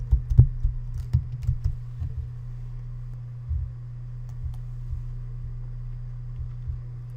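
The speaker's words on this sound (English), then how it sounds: "let me type in a little text" A few quick clicks on a computer keyboard at the start as a short bit of text is typed, then mostly quiet with a low steady hum beneath.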